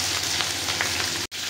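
Cut okra fries in hot oil with cumin and mustard seeds, a close, steady sizzle with small crackling pops running throughout and a brief dropout near the end.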